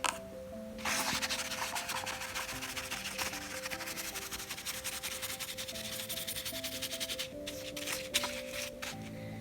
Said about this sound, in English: I'm mindful that I mustn't add too much water or scrub too much, and I'm really tempted to keep scrubbing